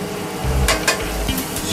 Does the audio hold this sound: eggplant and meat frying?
yes